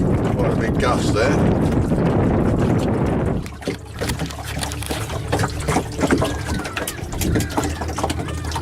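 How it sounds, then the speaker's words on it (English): A strong gust of wind buffets a solar-powered boat heading into tide and an easterly breeze, roaring against the microphone for a few seconds before easing to lighter wind and water lapping with scattered knocks. "Gust there."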